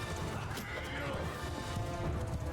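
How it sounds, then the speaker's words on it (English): Cavalry horses charging across a battlefield in Mount & Blade II: Bannerlord, with dense galloping hoofbeats, whinnies and clashing under a dense battle din, steady and moderately loud throughout. "Cavalry chargers are closing in."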